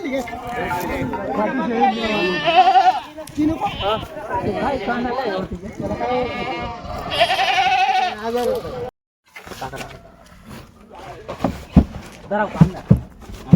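Kathiawadi goats bleat repeatedly at a busy livestock market, the cries mixed into loud, near chatter from a crowd of people talking throughout.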